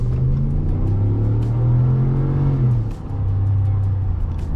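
A 2022 Ram 1500 Laramie pickup engine revs hard toward redline from inside the cab, its loud droning tone climbing steadily, dipping briefly as it shifts, then pulling up again.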